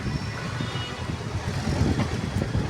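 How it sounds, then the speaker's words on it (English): Steady rumble of idling and creeping cars and trucks stuck in a long traffic jam on Ranka road in India, a dense continuous low drone with nearby engines and no talking. "Traffic jam."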